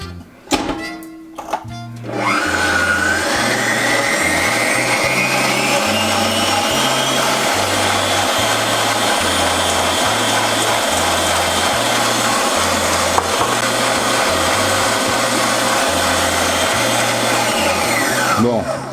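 Electric mixer whirring steadily as it whips egg whites with sugar, a continuous high motor whine with a rhythmic low thumping pulse, beginning after a few clunks and running loud and unbroken to the end.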